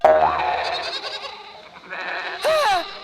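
Goat bleating in a rural comic scene, a wavering cry near the start and another sharper bleat near the end over a busy, noisy background.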